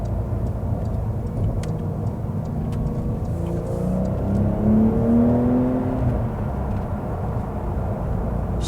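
A Porsche 992 Carrera T's turbocharged engine accelerates from inside the car, a smooth rising drone that swells and then settles, with no talking over it.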